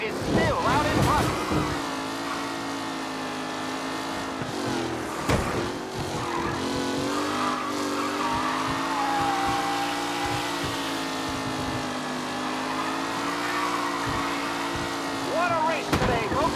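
Race cars roaring around a track in Mafia: Definitive Edition, engines droning steadily with rising and falling pitch as they pass, sustained and fairly loud with occasional sharp transients.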